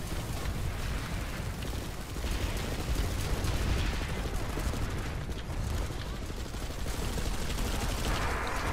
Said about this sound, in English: Multiple SVAs shooting shotgun behind me